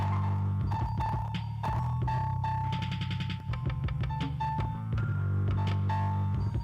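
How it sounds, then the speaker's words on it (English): Steady, loud throbbing mechanical hum of an elevator in a cave setting within a video game, a sustained drone with layered tonal pulses and no speech. "That's the elevator."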